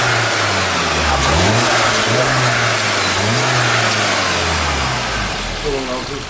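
A car engine runs loud and steady with repeated revs rising and falling in pitch, close by, with voices talking over it.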